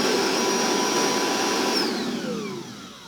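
A Milwaukee 18V cordless vacuum/blower runs loudly up close, a steady high-pitched motor whine and rush of air that starts winding down toward the end.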